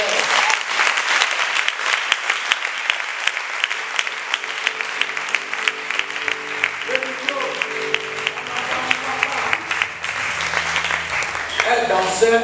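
A church congregation claps and cheers loudly and steadily for the whole stretch, with dense continuous applause, voices mixed in, and music tones rising underneath toward the end.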